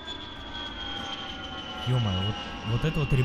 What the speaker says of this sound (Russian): меня очень сильно бесит, вот этот вот шум самолета